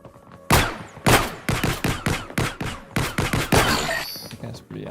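Pistol shots in an Unreal Engine game demo fire as about a dozen loud, sharp cracks in quick, uneven succession, each with a short decay, while someone talks softly underneath.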